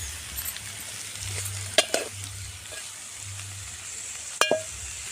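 Bitter gourd and tomato pieces sizzle quietly in a pan as they are stir-fried, a faint steady frying hiss broken by a couple of sharp metallic clinks from the spatula.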